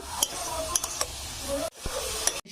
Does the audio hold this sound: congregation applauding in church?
no